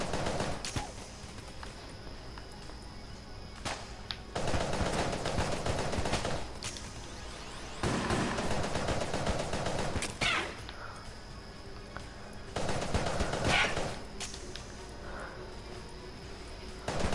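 Enemy gunfire in the video game Enter the Gungeon arrives in rapid, clattering bursts. Several loud volleys alternate with quieter stretches across the whole span.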